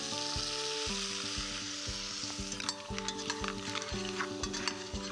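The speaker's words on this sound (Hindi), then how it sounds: "क्रैब को मसाले के साथ भून लेते हैं." Crab frying with curry leaves and Jaffna curry powder in a pan: a loud, continuous sizzle close up, with repeated scraping and clinks as the spatula stirs the spiced crab.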